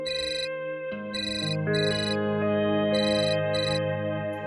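A phone ringtone plays loud and close, a repeating electronic melody in short bright bursts with brief gaps, running continuously with no talk over it.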